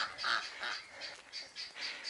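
Geese honk repeatedly in a series of nasal calls at close range, several birds overlapping in an uneven rhythm.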